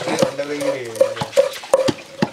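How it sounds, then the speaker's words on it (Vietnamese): Pork fat cracklings fry in a pan while being stirred, giving a steady sizzle broken by sharp scraping and clinking strokes of a utensil against the pan, close and fairly loud. "chiên tóp mỡ"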